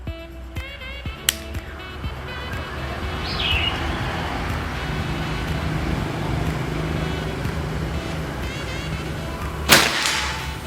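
A Predator Escobar PCP air rifle fires a single sharp crack near the end, preceded by a few smaller clicks and a steady outdoor background hum.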